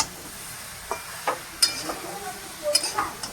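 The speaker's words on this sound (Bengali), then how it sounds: "লঙ্কা আর হলুদ গুঁড়ো দিয়ে একটুখানি একটু হালকা নেড়ে নিয়ে" Ridge gourd fries quietly in a pan with chili and turmeric powder while a spatula stirs it, giving a few soft scrapes and light clicks over a faint sizzle.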